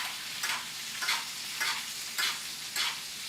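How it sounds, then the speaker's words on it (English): Foaming butter spooned over a porterhouse steak in a hot pan: a steady sizzle with four rhythmic swells of splashing as the butter is basted over the meat, close and fairly quiet, no talk. "And then we can baste our steak."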